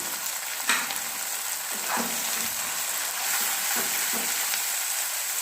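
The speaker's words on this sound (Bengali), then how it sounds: "এবার এটা ভালো মতো ভাজা হবে" Lotte fish frying in a pan with garlic and mustard gives a constant close sizzle, broken by a few soft scraping stirs of a spatula.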